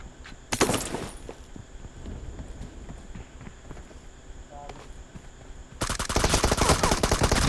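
Rapid automatic M416 rifle fire in a team deathmatch shooter game, loud bursts at the start and a sustained dense burst near the end, with footsteps and softer clatter between.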